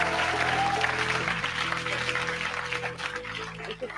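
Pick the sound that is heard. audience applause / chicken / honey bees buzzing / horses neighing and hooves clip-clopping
audience applause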